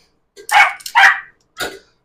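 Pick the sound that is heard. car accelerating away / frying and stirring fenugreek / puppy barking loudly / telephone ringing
puppy barking loudly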